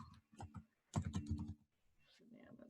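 Typing on a computer keyboard, quick bursts of close key clicks in uneven clusters with short pauses, and a low voice murmuring briefly near the end.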